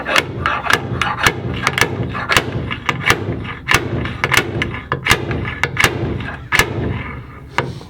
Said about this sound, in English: Some slide hammer here